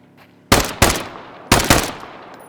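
Gunfire in the video game Deadside: two quick pairs of loud, sharp shots, each burst a double crack with a short ringing decay, close and alone with no talk over it.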